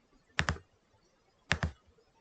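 Two quick clusters of computer keyboard key clicks, close and fairly crisp, separated by about a second of quiet room tone while building a CRM database form.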